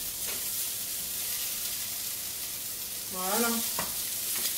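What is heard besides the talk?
food being stirred and fried in oil in a pan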